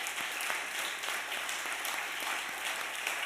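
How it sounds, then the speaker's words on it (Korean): Steady applause from an audience at a church service, the dense clapping holding at an even level through the short stretch with no voices heard over it. "여러분 감사의 박수 한번 올려드립시다."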